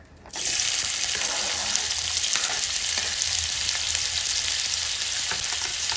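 Finely chopped onion hits hot oil in a wok, bursting into a loud, steady, close sizzle that holds without a break.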